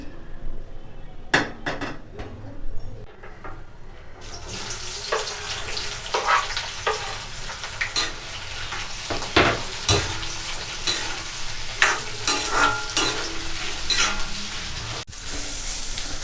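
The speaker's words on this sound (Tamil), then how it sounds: "வெங்காயம் நல்லா செவக்க வதங்கணும். இது வதங்கிட்டு இருக்கட்டும்." Onions and tomatoes sauté in hot oil in a kadai for egg gravy, with a steady close sizzle and repeated sharp metallic clanks and scrapes from a spoon being stirred against the pan, no voices.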